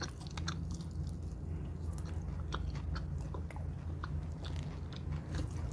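Close, steady crunching and biting as a piece of coconut suvarotti is chewed and tasted, a continuous wet mastication with brief crisp crunches throughout and no talking.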